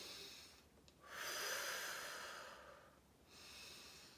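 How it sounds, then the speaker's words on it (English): A soft breath is drawn in through the nose and let out through the mouth in a slow, steady triangular breathing pattern. The breathing is close, gentle and unhurried, with a second inhale starting near the end and no talking. "breathe in through your nose, out through your mouth"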